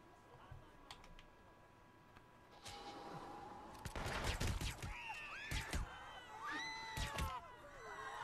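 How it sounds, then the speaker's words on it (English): Scattered gunfire from a Hitman: Absolution shootout, several sharp bursts of shots at moderate distance, cracking against a busy mix of game sound and tonal chirps, growing louder and denser in the back half. "Where's he shooting me from?"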